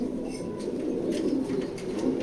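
Rare chequered racing pigeon hen cooing softly at close range, low rolling coos over a faint hissy background, no speech.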